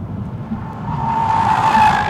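Audi S8 braking hard with massive steel vented rotors, a growing tire squeal and skid rising over road and engine rumble, loud and close, swelling toward the end.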